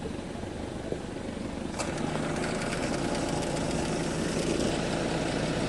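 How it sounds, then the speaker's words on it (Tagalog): A Suzuki Ertiga engine idles steadily; a click comes, then the air conditioner kicks on with a broad, steady whir of blowing fan noise over the engine hum. "Ipa-on ko nga itong aircon."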